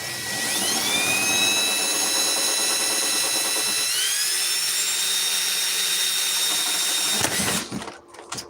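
A loud, steady power drill whines continuously, its pitch dipping briefly midway before it cuts off near the end with a few clunks.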